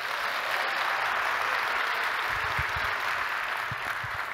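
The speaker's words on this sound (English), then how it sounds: "make some noise, clap your hands" A large conference audience at a medical society's opening session claps and cheers in a broad, continuous roar of applause that holds steady and even, heard from within the hall, with no one speaking over it.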